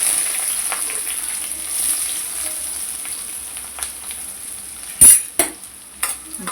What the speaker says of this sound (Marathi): इथे मी टाकते तेलामध्ये लसूण कढीपत्ता कांदा टाकते